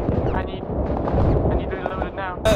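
Heavy gunfire and explosive blasts in the military video game Arma Reforger, a dense, continuous loud barrage with bursts of shots layered under a tense voice calling out.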